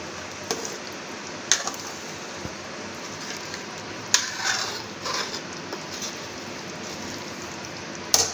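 Aloo chana gosht curry is spooned from the cooking pot into a serving dish, with a few sharp metal clinks and scrapes scattered over a steady background hiss.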